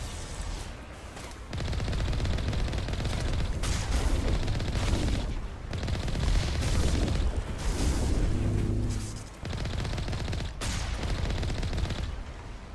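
Bursts of gunfire and booming blasts from combat in Mass Effect 1, loud and dense, with rapid volleys separated by short gaps and no voices.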